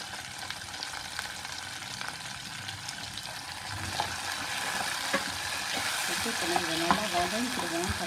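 Tomatoes sauté in a pan for an eggplant curry, a steady close sizzle with occasional stirring scrapes that grows a little louder toward the end, without talk.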